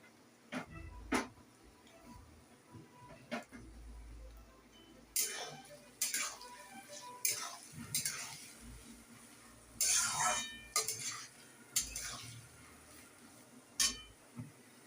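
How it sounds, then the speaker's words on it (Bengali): Fried rice ingredients stir-fried together in a pan, with scattered clinks and scrapes of a utensil against the pan coming in irregular bursts, moderately close, over a low background hum. "সব একসাথেই ফ্রাই করে নেব, তাহলে সময়টাও কম লাগবে।"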